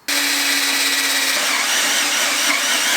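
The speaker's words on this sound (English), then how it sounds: "we drill the two holes next to each other to cover the end radiuses" A hole saw on a power drill cuts into metal, chewing rather than cleanly boring, with a loud, steady whining grind that starts abruptly and holds throughout, close up and with no talking.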